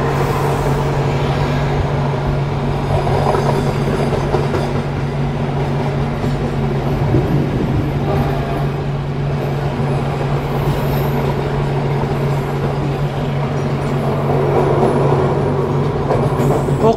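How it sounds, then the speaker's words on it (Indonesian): An Indonesian passenger train, the Gajayana, passes the Argo Semeru executive train with its stainless new-generation coaches after leaving Nganjuk station, a loud, steady rail rumble and rattle that runs for the whole stretch. "baru saja papasan dengan Argo Semeru dengan kelas eksekutif stainless new generation dan switch class kompartemen"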